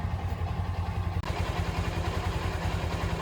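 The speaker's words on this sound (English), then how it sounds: "There's my son coming with the lawnmower" Lawnmower engine approaching across a garden lawn, a steady loud mid-pitched chugging drone with rattling clatter and a brief dropout partway through.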